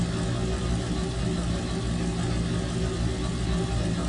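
A diesel locomotive engine in Trainz 2022 on the C&O Hinton route rumbles and roars steadily close by, a dense low throbbing drone with no talk over it.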